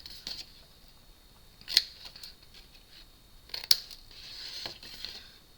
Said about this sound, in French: Je reprends mon petit ciseau, comme tout à l'heure, et là, je coupe en biseau toutes mes petites pattes de collage.